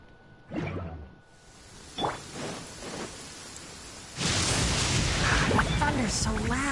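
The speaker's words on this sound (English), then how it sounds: "Thunder's so loud." Thunder in the Genshin Impact video game breaks out as a loud, sustained roaring rumble with rain-like hiss, preceded by quieter game sounds and brief speech.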